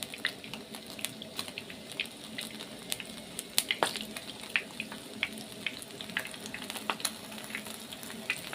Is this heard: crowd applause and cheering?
no